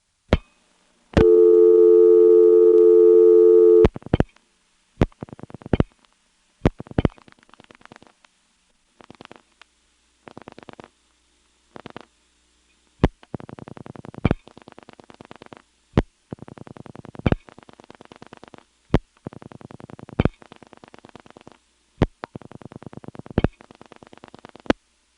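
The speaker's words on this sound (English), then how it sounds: "When I dial 252, the register sender will dial" A senderized XY step telephone switch in Lexington, South Carolina, where a register sender outpulses digits. A long steady tone gives way to sharp, evenly spaced clicks in bursts with gaps between them.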